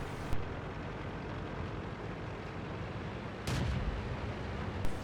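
In a tank video game, cannon shots boom over a constant noisy battlefield rumble, with a sharp report near the start, a heavier blast about two-thirds through and another shot at the very end.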